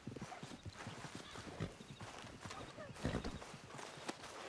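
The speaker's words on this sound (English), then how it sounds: "I'll take his horse." Horse hooves clip-clop in a steady trotting rhythm in Red Dead Redemption 2, close and fairly loud, with a few heavier thuds along the way.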